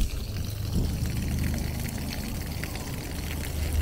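Water pouring and running steadily outdoors on a Philadelphia street, a continuous broadband rush with low rumble, close and fairly loud with no voices over it.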